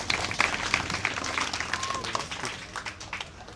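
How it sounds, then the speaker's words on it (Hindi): An audience at a student prize-distribution event applauds with steady, dense clapping that slowly thins, with some crowd murmur underneath. "एक बार ज़ोरदार ताली बजा दीजिए इनके लिए"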